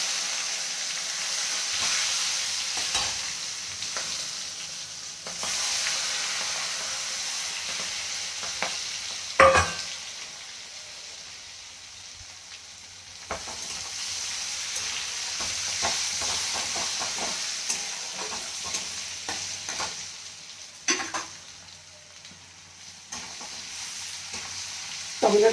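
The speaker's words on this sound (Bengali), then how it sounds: "টমেটোগুলো একটু কষিয়ে দেবো" Tomatoes and green chillies frying with turmeric in hot oil for Bengali aloor dom, giving a continuous loud hiss and sizzle with intermittent spatula scrapes and clatters against the pan.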